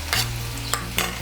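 Grated ginger and chopped onion stirred in hot oil make three quick scraping sweeps over a low frying hiss, with background music playing throughout.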